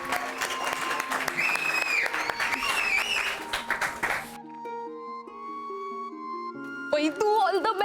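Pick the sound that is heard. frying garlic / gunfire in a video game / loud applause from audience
loud applause from audience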